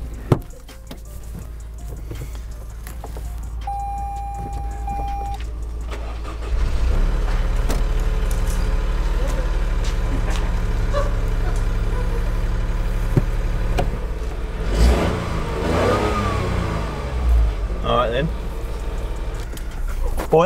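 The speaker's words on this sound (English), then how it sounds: "I'm going to do a little startup, little cold start." An Audi R8 engine makes a cold start, a low idle rumble that settles into a steady hum with a louder rise partway through, while people talk over it.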